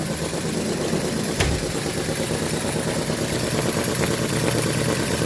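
A model desktop suction engine runs steadily and fairly loud on its own, a continuous mechanical whirr with a fast, even beat and one brief knock partway through.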